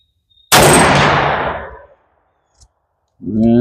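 A single sharp, loud rifle shot from a Savage Axis II Pro in .400 Legend with a muzzle brake cracks nearby, echoing away over a second and a half, followed by a faint click and then a voice.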